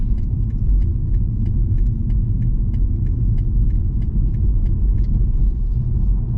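A 2021 BMW 330e hybrid driving in electric mode, heard from the cabin as a steady low road rumble with no engine note, plus faint, regular light clicks throughout and no talking.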